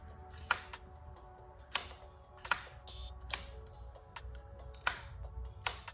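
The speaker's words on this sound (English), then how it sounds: "all I was hearing was clicking when I was pushing the starter" Repeated sharp clicks from the starter of a 2019 Honda CBR1000RR that will not crank, about seven isolated ticks at irregular intervals over a quiet background.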